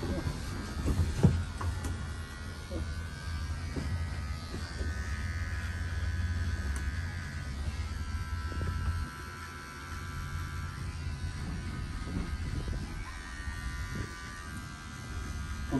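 Electric hair clippers buzz steadily and close up while shaving a head inside a cable car, with a constant low cabin hum and rumble underneath and a few faint handling knocks.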